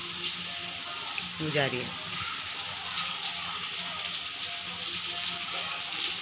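Steady rain falls on an early morning, a constant wash of patter and splashing water, while a voice speaks briefly near the start.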